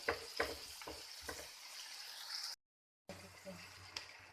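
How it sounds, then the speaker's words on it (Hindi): Homemade tomato pizza sauce fries in a pan, giving a quiet, bubbling sizzle with a few soft taps and stirs, broken by a brief silence. "इसको थोड़ा सा हमने फ्राई करना है, बस उसको भूनेंगे ताकि अच्छी तरह मेल्ट हो जाए।"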